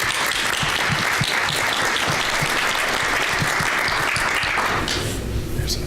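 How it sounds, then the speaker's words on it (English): Audience at a conference theater session giving a round of applause, a loud, continuous wave of many hands clapping that holds strong before fading near the end, with faint voices underneath. "I'd like to just give you a round of applause"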